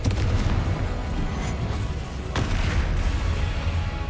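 Repeated Confringo fire spell blasts in the game Hogwarts Legacy, a dense, loud run of booming explosive bursts with no pause between them.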